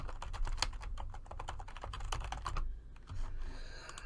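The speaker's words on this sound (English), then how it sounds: "If I could type, that'd be great." Quick, close clicking of keys on a computer keyboard, irregular bursts of keystrokes at a fairly soft level with no talking.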